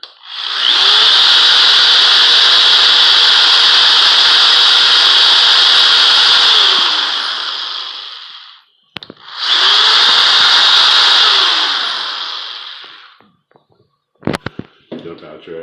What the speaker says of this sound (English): You're going to drill straight into a hole straight into here, directly in the middle.